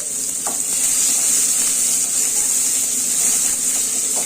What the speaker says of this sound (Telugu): కొంచెం ఆయిల్ వేసుకొని వేయించుకోండి మిరపకాయ వేసుకోండి